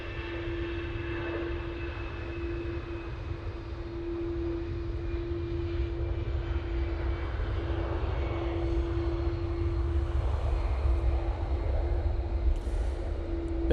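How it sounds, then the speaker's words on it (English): Airbus A319 of Brussels Airlines at Manchester Airport, a steady broadband jet roar with a sustained tonal whine, gradually swelling louder over several seconds, with no talk. "Brussels, A319, returning to proper Brussels."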